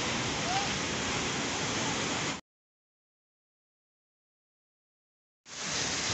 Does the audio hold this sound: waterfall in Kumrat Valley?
yes